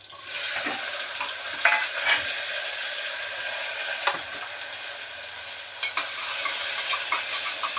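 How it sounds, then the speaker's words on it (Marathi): Onion sautéing with garlic and fresh curry leaves in a home kitchen pan gives a steady, close sizzle with scattered stirring scrapes and a few louder clinks. "कांदा परतून घेते."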